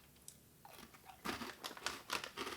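Close-up crunching and chewing of something hard and crunchy, several crisp bites in an irregular rhythm after a quiet start.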